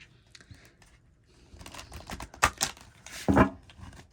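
A deck of cards is shuffled in a quiet room: soft scattered handling clicks give way to two louder riffling bursts of cards snapping together near the end.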